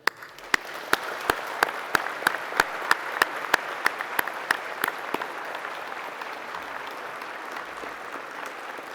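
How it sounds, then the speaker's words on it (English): Applause at a university graduation ceremony in honour of families, friends and staff, with a few sharp individual claps standing out early before the sound settles into a steady, even clapping from a large seated audience. "Let us give them the applause they so richly deserve."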